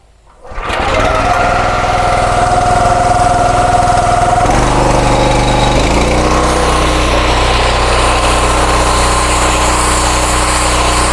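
An industrial pressure cleaner rated 4300 PSI at 15 LPM starts up and keeps running, its engine giving a loud, steady, close drone with a brief shift in pitch early on.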